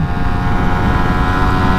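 A Suzuki Raider 150 Fi motorcycle engine drones loud and steady, revving hard while climbing through third and fourth gear toward 100, a continuous close engine roar throughout.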